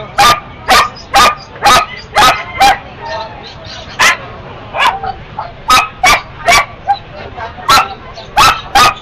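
Several dogs bark repeatedly at an outdoor pet market, sharp close barks and yips in quick irregular bursts, loud against a background of faint voices.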